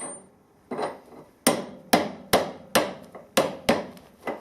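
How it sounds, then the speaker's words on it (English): A rubber mallet taps a bike part down over a spindle, giving about seven sharp, close knocks at a slightly uneven pace. The first blows are softer and the later ones are firmer. "rubber mallet."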